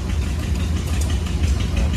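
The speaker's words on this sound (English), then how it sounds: "This is a compound steam engine model, and it's built from the castings of a Stewart triple expansion" A compound steam engine model built from Stewart triple-expansion castings runs on low steam pressure at an outdoor tractor show, giving a steady dense chuffing and mechanical clatter throughout, close and fairly loud.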